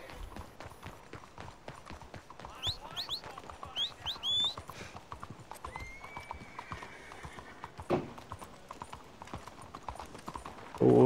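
Horse hooves clip-clopping at a steady trot in a western video game, close and rhythmic, with a few brief whinny-like squeals and sparse background effects.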